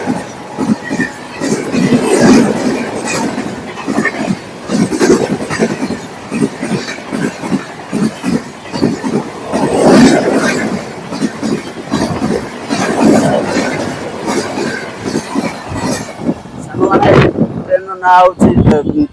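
Passenger train on the Bangalore–Nagpur service rolling at Bengaluru railway station, a rhythmic rumbling with repeated surges and rattles close by, while someone talks over it throughout.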